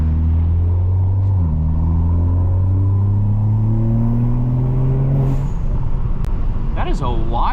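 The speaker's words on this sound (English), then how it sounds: "That is a wild turbo spool." A 500 HP turbocharged Toyota Supra on a track, heard from inside the cabin, hums with a rising turbo spool and engine drone that climb for several seconds before a sharp whooshing release.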